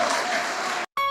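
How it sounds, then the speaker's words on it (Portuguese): Audience applause on a Christian TV programme, a steady wash of clapping that cuts off abruptly near the end, followed by a brief tonal sound. "Vamos aplaudir ao nome de Jesus."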